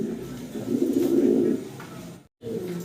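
Deep, throaty coos of large Baghdadi pigeons roll close by, a low rhythmic burbling that pauses briefly and then resumes.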